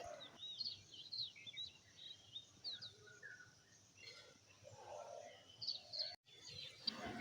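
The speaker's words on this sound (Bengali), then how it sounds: "ওই যে দূরে গাছের ওপরে পাখিগুলো ছোট্ট ছোট্ট বোঝা যাচ্ছে দেখতে কি সুন্দর লাগছে পাখির আওয়াজগুলো বেশ ভালো লাগছে" Faint, distant birds chirp and tweet in scattered short calls over a quiet outdoor background.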